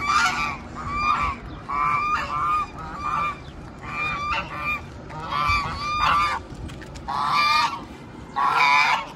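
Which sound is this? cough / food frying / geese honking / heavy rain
geese honking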